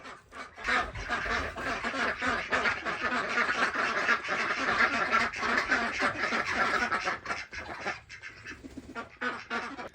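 A flock of ducks quacks loudly and continuously nearby, many overlapping calls forming a dense, noisy chorus.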